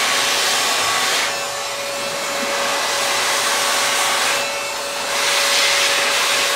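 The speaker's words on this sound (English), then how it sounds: "let's go back and start to shrink the rest of the tubing around the part" A heat gun blows continuously while shrinking EMI shielded wrap-around heat shrink tubing around a part, a loud steady airy roar with a faint constant whine that eases slightly and swells back as the gun moves.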